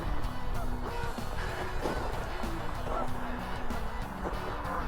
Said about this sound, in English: So we got geese.